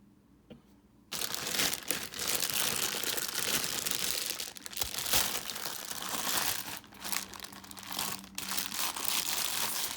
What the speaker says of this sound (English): let's get the plastic off of here